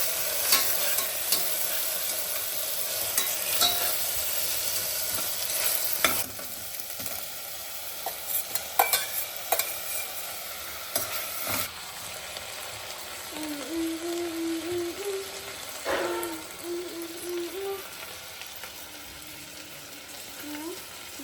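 Stirring and mixing onions with rice in a pan on the stove, a soft scraping and sizzling that continues steadily in the background with brief clinks and a few faint voices.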